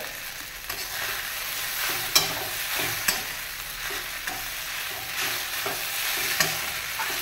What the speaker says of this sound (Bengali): একটু করে নেড়ে এই ভাজা আলুটা দিয়ে দিলাম।